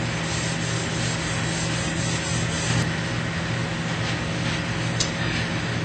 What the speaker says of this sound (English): the Scotch-Brite is taking the stains right off